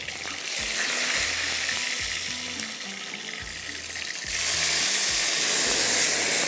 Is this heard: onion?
yes